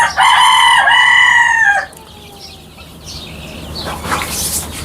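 Chickens on a poultry farm housed with month-old chicks of several local breeds: a loud, drawn-out crowing call for nearly two seconds, then softer, scattered peeping and clucking nearby.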